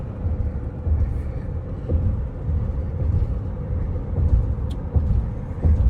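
Road traffic rumbles past as many vehicles drive by near the Canada–USA border crossing, a steady low drone with cars passing one after another close by and no talk over it.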